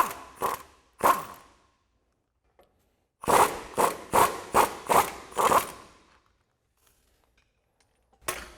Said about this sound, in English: we'll keep removing these 22mm bolts